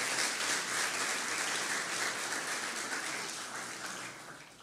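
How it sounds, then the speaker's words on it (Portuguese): Church congregation clapping in steady, sustained applause that gradually softens toward the end, full and reverberant with no voices over it. "Vamos aplaudir a Jesus pela palavra dEle?"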